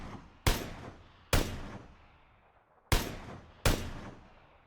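Four sharp SKS rifle gunshots in the video game PUBG, unevenly spaced. Each crack is loud and followed by a fading echo tail, with no talking.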